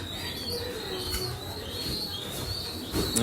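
Racing pigeons cooing softly at a loft before a 35-kilometre race release from Mawa, with low repeated coos, faint chirps and a brief wing flutter near the end, no talk.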